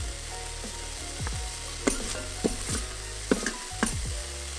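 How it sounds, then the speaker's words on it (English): Ground turkey browns in a hot pan with a steady sizzle, broken by several sharp scraping clacks of a utensil stirring and knocking against the pan; no one speaks. "So I wanna brown up the turkey meat"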